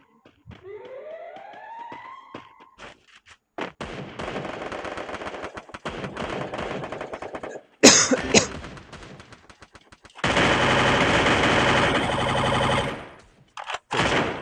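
Video game gunfire from a multi-game live stream, loud sustained bursts of automatic fire broken by short pauses, with a rising tone at the start and a sharp blast near the middle.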